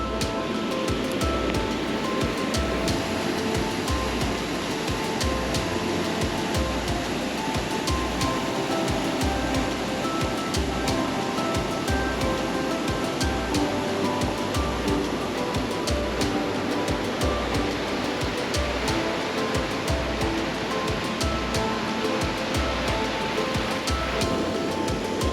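Steady, loud roar of rushing water from Bridal Veil Falls in Rocky Mountain National Park, heard close by as a continuous broadband wash with no pauses and no talking.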